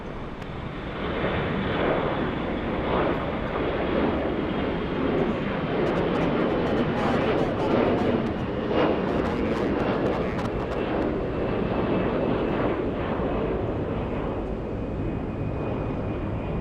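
A fixed-wing airliner takes off at Atlanta Hartsfield-Jackson airport, its engines building from a quiet start into a broad, steady roar that holds for the rest of the clip, with wind buffeting the microphone.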